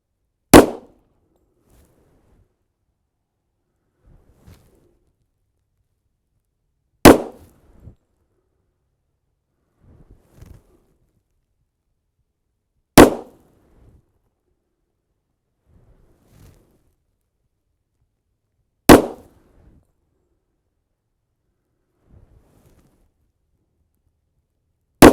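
A 1911 pistol with a Jarvis match grade barrel fires .45 ACP PMC Bronze rounds from a Ransom Rest, five loud, sharp single shots spaced about six seconds apart, with faint clicks and clanks between them.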